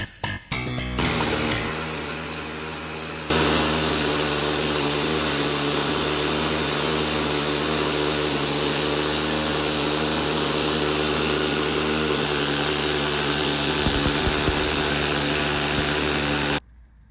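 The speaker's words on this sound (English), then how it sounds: "After a bit of needle scaling, I think it looks a whole lot better." A pneumatic needle scaler hammers continuously against the cast neck of a Big Twin motorcycle frame, a loud, steady buzzing rattle that runs for about thirteen seconds before cutting off.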